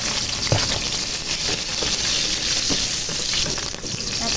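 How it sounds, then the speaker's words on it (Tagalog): Steady, dense sizzling of bell pepper frying in a hot pan, with a few soft clicks of stirring scattered throughout. "So, tingin ko prito ay yung bell pepper."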